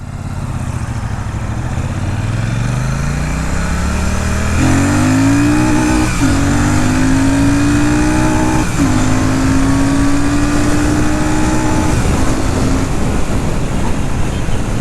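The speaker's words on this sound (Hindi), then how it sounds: "इसको अगर हम ऑन करते हैं, exhaust note is very good" A Royal Enfield Super Meteor 650 motorcycle engine and exhaust rumble loudly and continuously, with revs climbing through several gear shifts as the bike pulls away, close and steady throughout.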